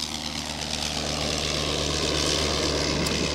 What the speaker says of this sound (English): This example is a replica, but with the original Lerone 9-cylinder 90 horsepower rotary engine.